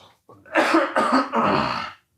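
A single person coughs in three quick, harsh bursts, close and loud, with a brief breath before.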